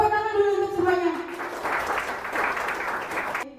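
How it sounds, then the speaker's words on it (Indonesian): Applause from the audience at a graduation celebration for an adult education centre follows a brief spoken line and carries on steadily for a few seconds before cutting off. "tepuk tangan dulu untuk semuanya"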